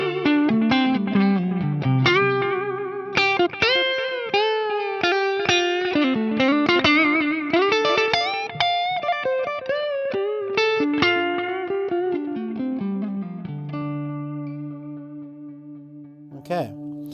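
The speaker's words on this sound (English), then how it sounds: "now going over to the clean channel, tight gain setting of the Stiletto." An electric guitar played through the clean channel of a Stiletto amp on a tight gain setting rings out in clear picked notes and chords, with a slight echo and a few sustained tones at the end.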